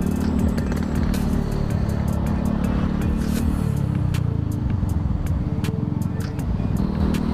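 A motorcycle rides through fairly busy weekend city traffic, its engine droning steadily and close throughout, with passing vehicle noise and faint wind over the steady hum.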